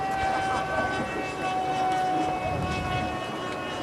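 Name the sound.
VisionAire Vantage RC model jet airplane flying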